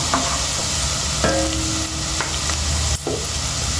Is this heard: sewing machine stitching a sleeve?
no